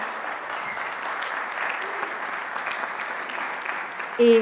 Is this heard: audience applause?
yes